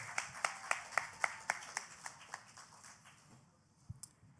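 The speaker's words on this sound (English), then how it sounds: "Let's give Miss Peralta a round of applause" At a high school graduation ceremony in Brooklyn, a small number of hands clap in a steady, faint rhythm that thins out and fades, with a couple of last taps near the end.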